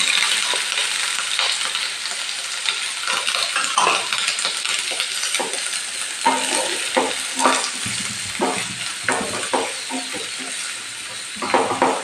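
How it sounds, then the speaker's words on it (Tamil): Green chillies, curry leaves and onion fry in a pan, giving a steady sizzle with scattered scraping and stirring clinks over about twelve seconds, with no voice heard. "இப்போ நல்லா ஃப்ரை ஆகிட்டுருக்குங்க."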